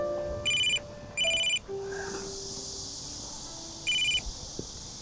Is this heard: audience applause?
no